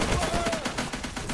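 Rapid gunfire from the World War II video game Easy Red 2, a quick rattling string of shots that is close and fairly loud, with a faint voice mixed underneath.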